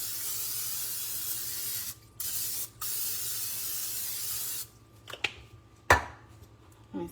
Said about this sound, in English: With some vegetable cooking spray.